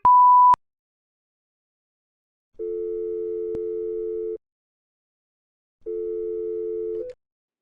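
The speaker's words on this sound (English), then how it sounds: "Message after the beep. Beep!" A short, loud answering machine beep sounds once at the start. After a gap, two longer, lower steady telephone tones follow, separated by silence.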